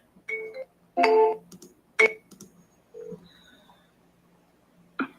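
Telephone tones and beeps during a call: several separate bursts of electronic tone, some short and some held, spaced out with quiet gaps between them and no talking.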